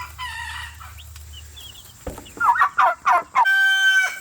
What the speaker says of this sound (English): These are our chicks from McMurray Hatchery.